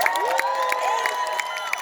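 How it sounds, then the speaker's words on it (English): Convention panel audience applauding and cheering loudly, with whoops and shouts over steady clapping from a large crowd, sustained throughout. "keep that applause going"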